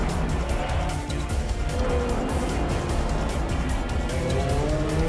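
DTM race cars, Mercedes and Audi, battle in a final, a dense, continuous engine roar with shifting tones as cars race past, loud and steady throughout.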